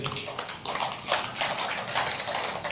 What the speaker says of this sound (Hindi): तालियां दे दो।